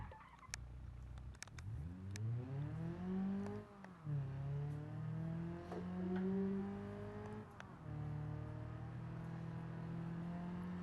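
A video-game car engine revs hard and repeatedly, pitch climbing and dropping through gear-like shifts, loud and continuous for about ten seconds with no talk over it.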